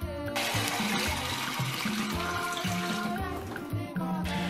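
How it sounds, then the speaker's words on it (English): Tap water runs steadily while peeled cocoyam is washed by hand in a kitchen, a continuous splashing rush with rhythmic sloshing under it, close and fairly loud throughout. "Now I peel my cocoyam and I wash it nicely."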